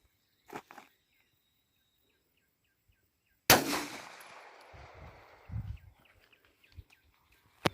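A single loud 11mm gunshot fired into trees outdoors cracks sharply out of near silence and fades in a long echoing tail. A few softer knocks and thuds follow.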